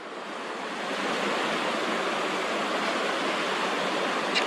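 Ocean surf on the incoming tide makes a steady broad wash of breaking waves, loud and continuous, swelling up in the first second and then holding without pause.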